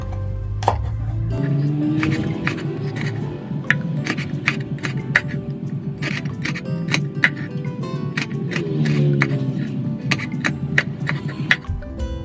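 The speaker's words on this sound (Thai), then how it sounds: "พริกแดงจินดานะคะ เราก็จะมาซอยเป็นริ้วๆยาวๆค่ะ" Steady knife chopping on a board, slicing red chili into long strips, quick repeated taps through most of the stretch, close and clear with a low background hum.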